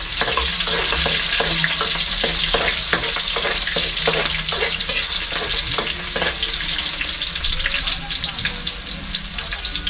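Onions frying for chicken liver adobo give a loud, steady sizzle with repeated scraping stir strokes, close up and continuous with no talking.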